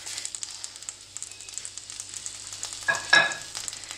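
Tomatillos and garlic dry-roast and char in a hot pan, giving a low, steady sizzle with scattered small crackles and a brief louder pop near the end, no voices.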